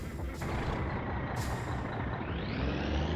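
Truck air brake in the My Summer Car game, a loud hiss that releases over steady engine rumble and then rises into a tone toward the end, with no talk.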